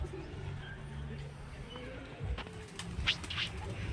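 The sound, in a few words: pigeons cooing and flying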